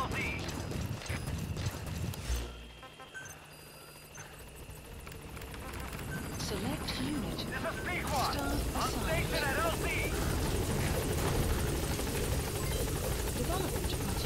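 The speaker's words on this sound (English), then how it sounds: "Support helicopter requested." Support helicopter arriving at a landing zone in the video game Metal Gear Solid V: The Phantom Pain, a steady rotor rumble that fades briefly, then builds and holds loud and near through the rest of the clip, with game sound effects layered over it.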